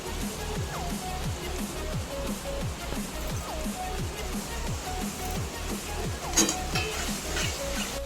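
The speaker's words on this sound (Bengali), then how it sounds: "গুঁড়ো মশলাগুলো দিয়ে আরেকবার খুব ভালো মতো করে কষিয়ে নিচ্ছি" Ground spices, tomato and onion for ghugni sizzle softly in a pan while a spatula scrapes through them in a steady rhythm of strokes, with an occasional clink of utensils.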